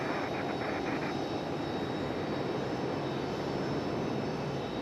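United Airlines Boeing 737 jet at Raleigh-Durham airport, a steady, broad engine roar heard from a distance and holding evenly throughout.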